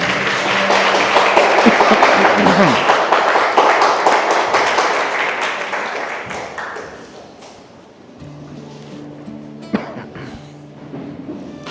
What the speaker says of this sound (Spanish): Le podemos dar un aplauso al Señor esta mañana.